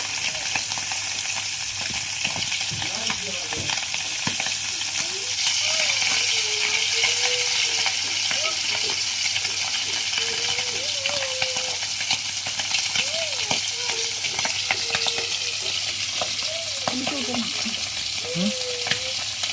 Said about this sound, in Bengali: মাছ খুব ফুটতেছে, মানে চোখে মুখে আসতেছে